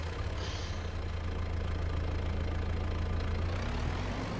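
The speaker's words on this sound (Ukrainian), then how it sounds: "Але зате новий трактор." A tractor engine in Farming Simulator 22 idles steadily with a low, even, knocking throb, close and constant throughout with no voices.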